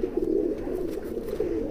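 High flyer pigeons coo steadily at close range, a continuous low warbling murmur from several birds with no break and no talk.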